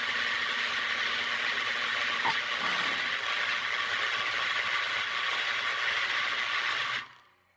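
A 20000 watt microwave oven runs with a grape halved inside, giving a steady loud mechanical hum and whir with a rattling edge, then cutting off abruptly near the end.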